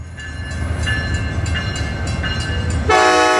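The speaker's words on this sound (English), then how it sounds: "Here comes our last train of the day with" An SC44 locomotive (number 2105) rolls past on Northern California rails, a steady loud rumble with a sharp multi-tone horn blast bursting in near the end.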